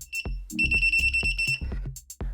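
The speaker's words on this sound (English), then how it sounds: "the power supply has an extremely loud and annoying beep sound when you press the buttons" A series of sharp, loud electronic beeps from a power supply's buttons, several in quick succession at an uneven rhythm, each a bright piercing tone with a clack of button presses.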